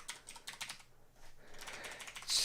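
Typing on a computer keyboard during a Sublime Text editing session, with bursts of quick, light key clicks, a brief pause in the middle, then more steady tapping ending in a louder flurry.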